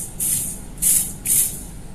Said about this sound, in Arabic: البترول لازم يكون من الانجكتر بيطلع على شكل سبراي